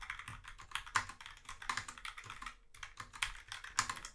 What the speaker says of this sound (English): with any mechanical keyboard, you're going to get some noise